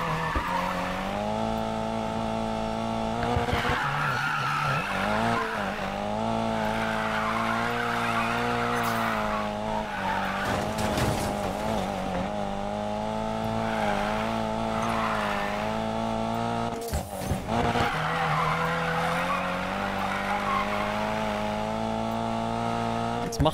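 Car drifting in Need for Speed Payback, with a steady engine drone and sustained tire squeal running throughout, loud and continuous with brief dips.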